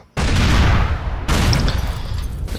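Two loud explosive booms as a helicopter crashes into a house in the video game Grand Theft Auto IV, the first erupting suddenly and the second following about a second later, each trailing into rumbling, crackling debris.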